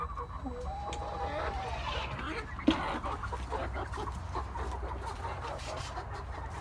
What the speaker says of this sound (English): got a couple hens roosting